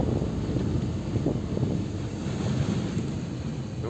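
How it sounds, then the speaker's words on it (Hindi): Strong wind roars steadily and loudly on a hillside at Ranikhet, with heavy buffeting on the microphone and no break for the whole stretch. No voices are heard. "तो क्या तेज हवा चल रही है"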